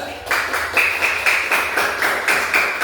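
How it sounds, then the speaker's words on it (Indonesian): A classroom of students claps in unison for a group, a rhythmic run of about ten even, crisp claps at a steady beat, close and fairly loud. "tepuk tangan untuk nomor 2"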